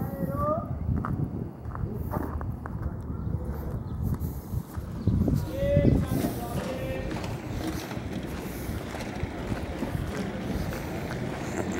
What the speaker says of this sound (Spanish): Hasta caballo te he puesto para aquí.